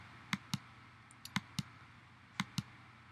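A computer mouse clicks through presentation slides: three quick double-clicks spread across a few seconds, each a pair of sharp, close ticks over a faint room hush, with one softer tick between them.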